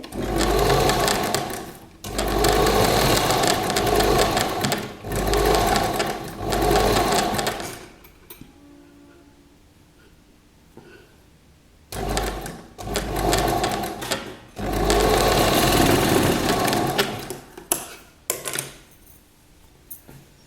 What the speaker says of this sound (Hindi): डबल सिलाई लगा लें आप, थोड़ी सी डिस्टेंस से, यहीं से टर्न हो जाए